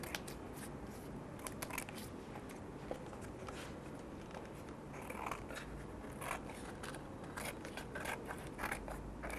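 Scissors snip and trim along the edges of a glued paper or craft piece in a quiet studio, a steady run of small crisp cuts and rustles close by, with no talk.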